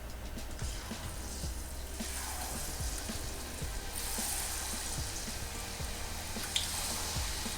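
Zucchini ends coated in leftover batter fry in hot oil, giving a steady, dense sizzle with scattered small pops and crackles throughout, close and continuous with no voices.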